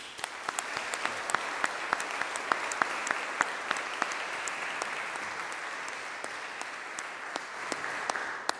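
Congregation applauding at a confirmation service, a steady wash of many hands clapping with sharp individual claps standing out, sustained at even loudness throughout.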